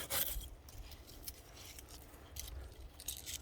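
Small pine branches are snipped away while a pine tree is pruned and reshaped: soft, close rasping cuts and rubbing scrapes repeat irregularly at low volume, with no voices.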